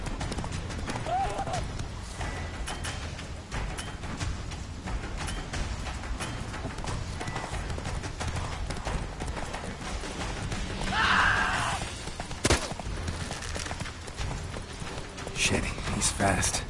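Roach, the horse in the video game The Witcher 3, gallops with a steady, rapid clip-clop of hooves that runs throughout, while game voices talk over it.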